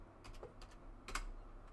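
Faint clicking of fingers typing on a computer keyboard, a handful of quick, soft key taps in an irregular rhythm.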